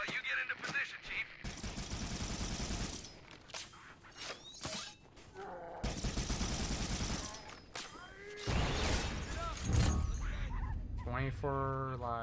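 Bursts of automatic gunfire in Halo: Combat Evolved, loud sustained volleys broken by short pauses, with single shots, shattering impacts and other game effects mixed in.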